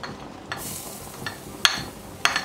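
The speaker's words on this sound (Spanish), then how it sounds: "Una vez caliente la cacerola para hacer el sofrito, ponemos el aceite" Oil heating in a hot casserole for a sofrito, a soft low sizzle under a few sharp metallic clinks and stirring scrapes from utensils against the pan.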